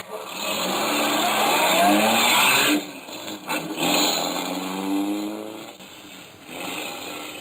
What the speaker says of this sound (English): closed the trunk, got the car started